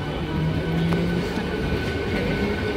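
A train departs Mankundu station with a steady, close rumble of rolling wagons and faint wheel squeal, with no voices.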